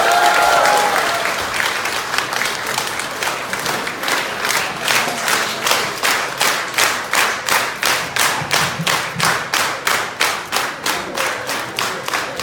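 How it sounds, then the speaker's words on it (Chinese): An audience applauds crosstalk performers Zhang Jiunan and Gao Jiucheng at a Tianqiao theater show, starting as a dense burst that settles into strong rhythmic unison clapping, loud and sustained. "谢谢各位给我们热烈的掌声"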